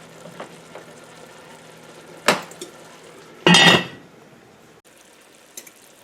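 A spoon scrapes and clanks inside a pot of collard greens cooking with a turkey leg, with a couple of short sharp knocks and one louder burst of metal-on-pot stirring, then quiet.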